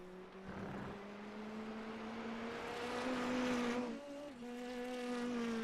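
An Indy NXT race car laps Road Atlanta in iRacing on a wet qualifying run. Its engine gives a steady, close drone that rises and falls with brief shifts and dips as it powers through corners, with no talk.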